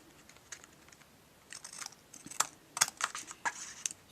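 Soft, crisp snipping sounds of scissors trimming card stock, several quick cuts in an irregular rhythm, close by and fairly quiet.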